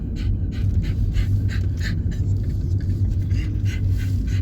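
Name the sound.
dog panting heavily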